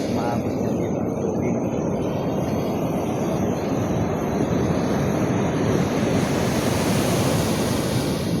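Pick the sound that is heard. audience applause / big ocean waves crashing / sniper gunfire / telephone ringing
big ocean waves crashing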